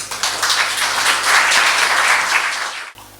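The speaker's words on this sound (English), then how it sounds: "Please, all of you, welcome with a warm applause" Warm, sustained audience applause at a poetry reading event, dense and even throughout before cutting off abruptly near the end.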